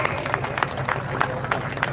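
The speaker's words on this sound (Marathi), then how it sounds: "टाळ्या तो करिए टाळी तो बजाइए" Audience at a wrestling bout clapping in scattered, rhythmic bursts, with an announcer's voice and crowd murmur running underneath throughout.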